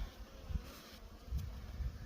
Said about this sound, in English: Lots of bees, eh?